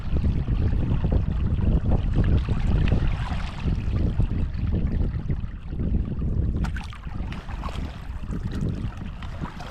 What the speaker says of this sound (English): This wind comes out of nowhere.